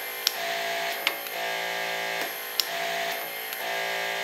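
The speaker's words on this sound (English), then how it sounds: "Push and hold the advance button to begin tightening, and hold until you hear an audible click" MXT+ hydraulic torque wrench tightening a bolt, with a steady pump hum carrying sharp mechanical clicks at irregular intervals, close and alone.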